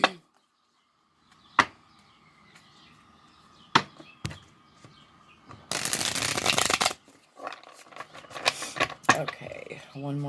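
Sharp tarot card taps and snaps, then a long burst of riffle shuffling, followed by softer card handling and flicks.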